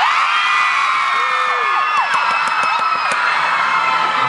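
A concert crowd at a live band show screams and cheers loudly and continuously, high-pitched shrieks and whoops filling the whole stretch without pause.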